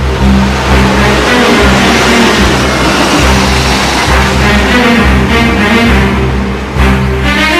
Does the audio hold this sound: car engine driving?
yes